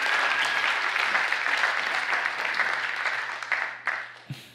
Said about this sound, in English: Yeah, give an applause for Jan.